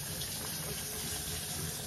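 Water running steadily from a newly installed faucet into a pedestal sink basin, a continuous close rushing splash at an even level throughout with no talking.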